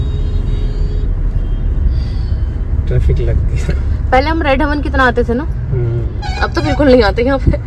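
Congested road traffic near a station sets a steady low rumble of idling vehicles with a brief air-brake hiss, while people talk in Hindi close by over it.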